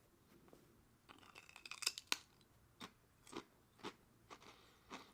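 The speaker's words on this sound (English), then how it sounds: "Very good crunch." Someone bites into and chews a large Japanese potato chip: a dense cluster of sharp, close crackling crunches followed by several slower, evenly spaced chewing crunches, with no talk.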